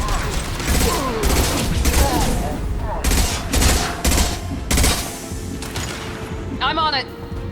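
Impact shot gunfire in Mass Effect 2, loud heavy blasts repeating in bursts amid constant battle noise and explosions, with combat voices talking throughout.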